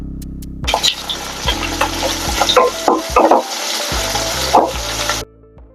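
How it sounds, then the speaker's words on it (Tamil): Chopped onions sauté in oil with cumin, fennel and curry leaves for poori masal, a loud close sizzle broken by clattering stirs and scrapes of a spoon, cutting off abruptly near the end. "வெங்காயம் நல்லா வதங்கிடுச்சு"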